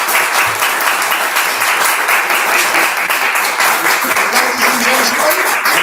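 Loud, dense applause from an audience at a disability action hustings in Haringey, steady clapping filling the room for several seconds after the candidates finish.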